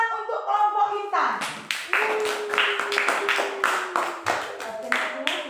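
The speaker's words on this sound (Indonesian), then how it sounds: "Tepuk tangan" A classroom group of children claps for a student team after a teacher's cue, a burst of quick, uneven hand claps lasting several seconds with a voice and some talk mixed in.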